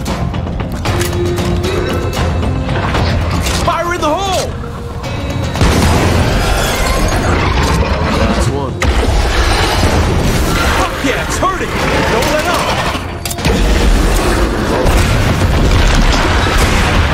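Grenade blast in the video game State of Decay 2, a dense, loud booming rumble amid continuous game action noise, with voices talking over the chaotic mix.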